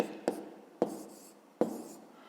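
A pen or pencil writing numbers by hand on paper during a fifth-grade math exercise, with three short, crisp taps or strokes, each trailing off into faint scratching, close and quiet.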